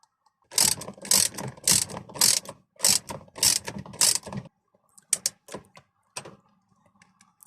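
A ratchet wrench clicks rapidly in several bursts while tightening the steering wheel bolt on a VW Golf/Jetta Mk5, loud and close, followed by a few slower, quieter clicks and faint handling noises.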